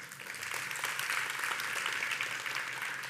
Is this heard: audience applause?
yes